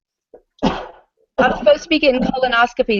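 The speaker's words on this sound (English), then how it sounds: "Bless you. Excuse me." One sharp, close sneeze bursts out from a person in a room, followed a moment later by someone talking.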